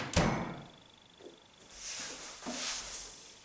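A minibar door fitted with LED lighting is pushed shut. A single soft thump opens the clip, followed by faint handling noises and quiet rustles in a room.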